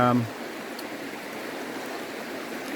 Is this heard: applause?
no